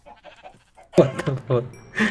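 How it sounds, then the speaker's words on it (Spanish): Sheep in the Minecraft video game bleat in several short, wavering calls, a few soft ones first and then louder, nearer bleats, while a person talks lightly over the game sounds. "Mira, aquí un chorro de ovejas."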